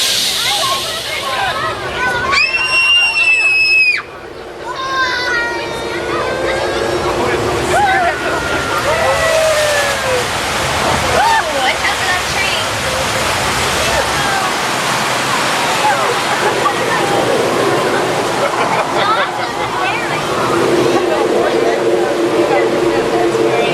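On a Universal Studios tram ride, a staged flash flood of about 10,000 gallons of recycled water rushes down a hill, a loud steady roar under a guide's amplified talk and crowd chatter.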